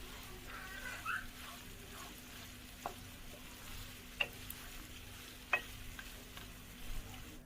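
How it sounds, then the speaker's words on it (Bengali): A cup of chopped onion frying in a pan for a duck curry, a faint steady sizzle broken by a few light clinks of a spoon stirring against the pan. "পেঁয়াজটা মিডিয়াম ভাজা হয়ে গেছে"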